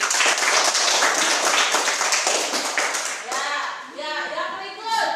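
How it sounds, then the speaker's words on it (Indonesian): Classroom of students applauding a student group, lively clapping for about three seconds that fades as voices rise and chatter over the tail end. "Tepuk tangan untuk kelompoknya Kevi."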